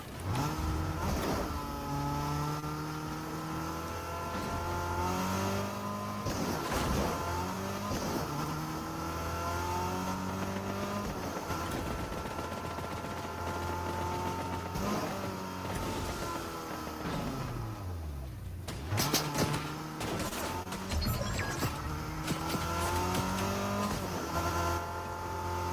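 Car in the video game Fortnite driving, with an engine revving and shifting through repeated rising gear sweeps, sustained and fairly loud, with brief drops and surges as the vehicle accelerates again.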